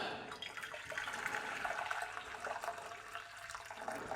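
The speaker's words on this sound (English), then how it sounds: "I'm going to fill this a little bit with water." Water running from a kitchen tap into a pan, a steady, faint gushing flow with no talk.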